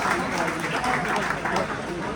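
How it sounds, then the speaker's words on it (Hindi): Steady applause from a crowd welcoming an invited music party led by an ustad at a gathering in Chiniot, a dense continuous wash of clapping with voices mixed in. "तालियां जी। ताड़ियां।"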